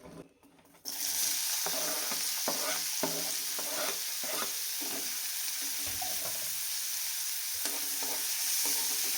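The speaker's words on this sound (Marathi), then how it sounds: "कढई अगोदरच छान गरम झालेली त्यामुळे तेल लगेच गरम झालंय. आता कांदा ह्याच्यामध्ये टाकून घेते." Chopped onion frying in hot oil in a preheated kadhai, for a bitter gourd sabzi, gives a loud, constant sizzle that starts abruptly after a brief quieter moment, broken by repeated stirring clicks and scrapes.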